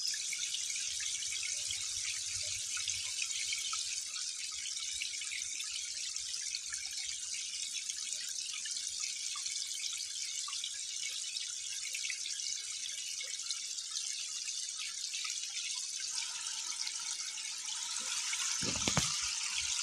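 Water trickles and drips steadily from a cast net lifted out by a sluice gate while catching puti fish and prawns, a soft continuous patter with a louder splash near the end.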